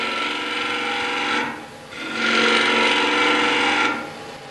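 A bowl gouge cuts a wooden bowl on a spinning lathe, giving a continuous close scraping hiss over the lathe's drone, swelling in two longer passes.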